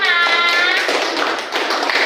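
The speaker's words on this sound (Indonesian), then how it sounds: "Tepuk tangan untuk kelompok 5" Applause for a student group in a classroom presentation, a short burst of many hands clapping, loud and close, tapering slightly then continuing.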